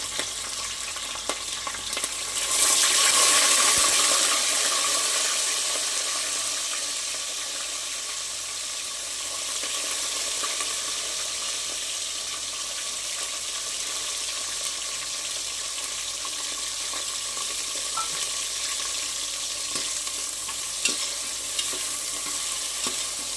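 Vegetables with slit green chillies and onions boil and fry in a pot for veg biryani, giving a steady sizzling hiss that sits just above a bubbling simmer and briefly swells louder near the start, with no voices.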